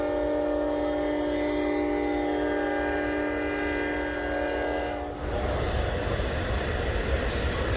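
A train passes near a campsite at night, its horn sounding a long sustained blare that cuts off into the loud rumble and rattle of rail cars rolling by close.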